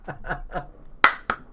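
A couple of sharp hand claps, close and distinct, ringing out right after a few soft chuckling voice sounds.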